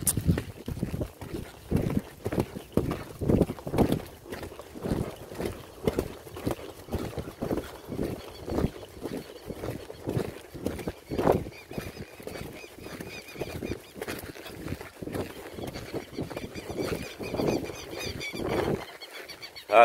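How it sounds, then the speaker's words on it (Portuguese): A horse gallops nearby, its hooves clip-clopping in a fast, steady rhythm that runs for the whole stretch without any talk. "dando uma galopada no cavalo"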